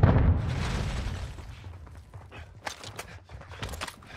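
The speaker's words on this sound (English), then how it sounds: "Stun grenade out." A stun grenade goes off in a Warzone match on Rebirth Island, opening with a loud, broad boom that fades into a ringing wash. A scatter of sharp gunfire-like pops and clicks follows.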